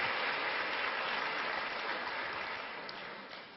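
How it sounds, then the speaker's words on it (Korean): A church congregation claps in welcome, a dense continuous patter of applause that slowly fades toward the end. "박수로 우리 환영했습니다"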